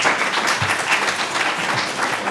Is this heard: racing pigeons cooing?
no